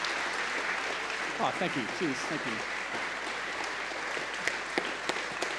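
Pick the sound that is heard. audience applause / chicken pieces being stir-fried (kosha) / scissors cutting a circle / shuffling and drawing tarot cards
audience applause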